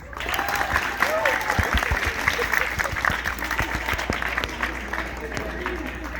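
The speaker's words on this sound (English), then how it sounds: "Please give yourselves literally a round of applause." A crowd applauding steadily at a graduation, dense clapping throughout with some murmuring and a voice or two mixed in.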